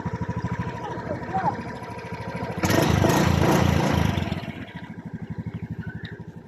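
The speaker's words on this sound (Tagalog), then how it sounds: "At yun na nga, umandar na ang motor." A Honda Beat FI scooter engine, which had been refusing to start with the key, runs with a steady, fast, throbbing idle. It is close and fairly loud, with a brief louder revving burst midway, and people talk over it.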